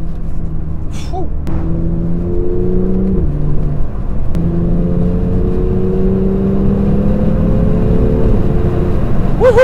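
A BMW M2 pulls hard in fourth gear, its engine note climbing steadily from inside the cabin, with a brief pause around a shift before the drone rises again, loud and continuous throughout.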